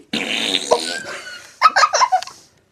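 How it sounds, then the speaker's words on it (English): Cartoon farting and burping effects from the kids' TV show All Hail King Julien, a loud drawn-out blast followed by a burst of several short sputtering toots, close and alone. "But a lot of farting and burping."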